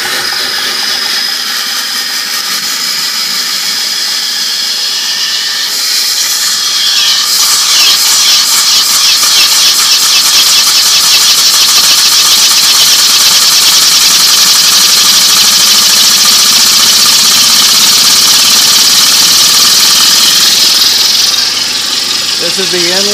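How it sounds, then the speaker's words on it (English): Compressor on a low-temperature waste heat generation rig starts up and runs, a loud, steady close mechanical hum and whine with rattling vibration that holds for over fifteen seconds, with a voice talking faintly at first. "Go ahead and start the compressor here. It's going to get noisy"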